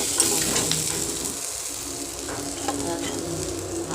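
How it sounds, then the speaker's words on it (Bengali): Cauliflower, potato and eggplant sauté together in hot oil with ginger and garlic, a steady close sizzle and crackle broken by faint stirring scrapes, no talking. "ফুলকপি আলু বেগুন একসঙ্গে কষিয়ে নিচ্ছি"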